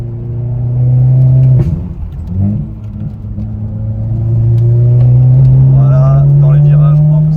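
A Volkswagen Golf 7 GTI Performance with 128,000 km accelerates in the cabin, its engine drone rising through the gears with a brief shift dip, close and loud under conversation.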